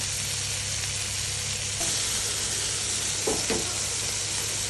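Fish pieces fry in a pan for a lemon butter fish dish, giving a steady, even sizzle throughout with a couple of brief stirring clinks near the end.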